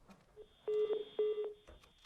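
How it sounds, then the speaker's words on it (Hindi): A phone line cutting out during a live television news call, heard as two loud electronic tone bursts with beeps around them, a close, steady telephone signal against faint background noise. "फोन लाइन डिस्कनेक्ट हो गई है महावीर जी की"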